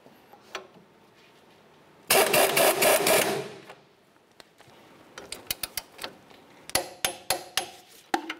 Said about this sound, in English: we'll go ahead and bottom this out and then we're gonna torque this to 59 foot-pounds